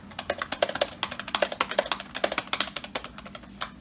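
A vintage Apple PowerBook 170 laptop keyboard is being typed on: a quick, steady run of about twenty close, crisp plastic key clacks with no voices.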